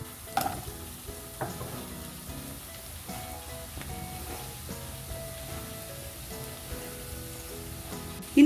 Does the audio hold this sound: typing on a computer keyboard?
no